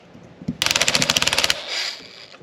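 A socket wrench ratchets on an old WW2 Ford Jeep, a single close, loud burst of about a dozen rapid metallic clicks lasting roughly a second, set off by a faint knock and followed by a softer scrape.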